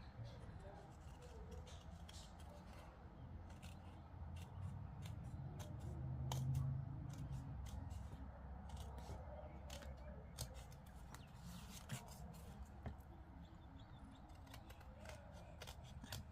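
Scissors trim a handmade paper ID card in a quiet room, giving a series of soft, crisp snips at an irregular pace with faint background murmuring.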